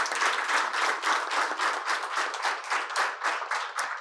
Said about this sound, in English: Let's give them all a round of applause and appreciation.